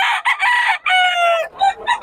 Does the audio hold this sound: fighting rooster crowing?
yes